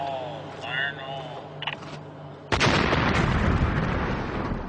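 After someone speaks briefly, a sudden loud blast erupts from a countdown demolition, its broad rumbling roar sustained and slowly tapering over the following seconds.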